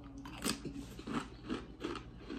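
Lay's Hot n Sweet Chili potato chips being crunched, with five brittle bites spaced about evenly and close to the mic, and no talking.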